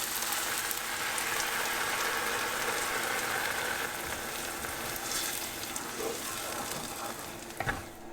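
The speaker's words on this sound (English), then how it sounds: "Now I'm going to add my crushed up tomatoes." Crushed tomatoes hiss and sizzle steadily in a hot pan, a loud continuous crackle that settles slightly before a brief clatter near the end.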